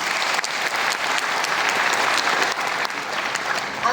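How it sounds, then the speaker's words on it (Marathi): An audience at a Pune Traffic Police training closure ceremony breaks into loud, dense applause that holds steady for several seconds, filling the hall with many hands clapping at once. "आपल्यासाठी एकदा जोरदार टाळ्या वाजवूया"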